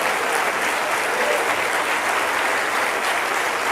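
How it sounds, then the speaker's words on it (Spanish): A church congregation claps loudly and steadily throughout, a dense continuous wall of applause with no break. "Fuerte el aplauso a Dios"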